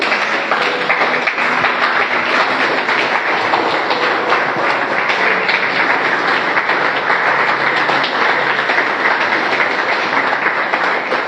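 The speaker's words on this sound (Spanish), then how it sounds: "dale un aplauso a Dios" A standing church congregation applauds God, a dense unbroken roar of clapping that stays even and loud from start to finish with no voices on top.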